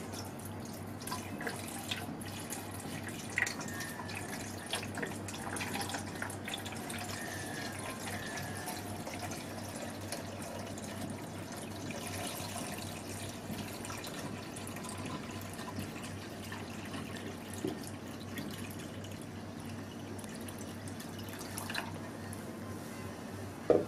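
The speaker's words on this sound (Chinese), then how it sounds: "再在外围加入适量的清水" Clean water poured steadily into the outer pot of a Tianji electric stew cooker, a continuous soft trickling and dripping that runs on its own, without talk, for the whole stretch.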